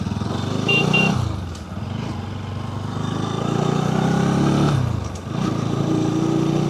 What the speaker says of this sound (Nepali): मेरो बाइकको क्लच प्लेट गएको कि चेन ठुलो गएको कि कडाक कडाक गरे पड्किन्छ जस्तो